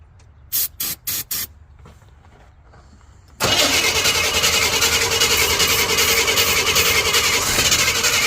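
An old Chevy pickup that has sat for years cranks in a few short bursts on straight ether, pauses, then catches and roars into a loud, steady run.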